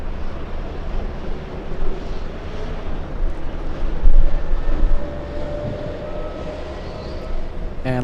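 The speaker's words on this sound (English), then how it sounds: "And landing right now, we have a 787." A United Boeing 787 from Haneda lands at Los Angeles International Airport, heard as a steady, distant jet roar with wind buffeting the microphone, swelling briefly midway before settling back.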